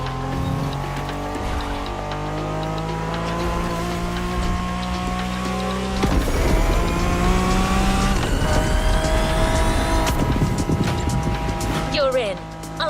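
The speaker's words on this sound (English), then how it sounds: "Good thing you're driving the 1969 Camaro Z28." Engine of a 1969 Camaro Z28 in the racing game The Crew Motorfest, a loud sustained roar with rising revs and gear changes, growing more intense partway through, with a voice talking over it.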